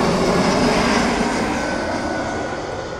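Italia Airways Airbus A320neo with Pratt & Whitney engines flying near Rome Fiumicino, a loud, steady, close jet roar filling the whole clip and easing slightly toward the end.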